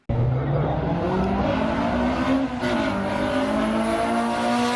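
Cars racing down a drag strip at Santa Pod, an electric Honda against a Honda Civic EP3, heard as a loud, steady engine roar with rising whine through the whole stretch.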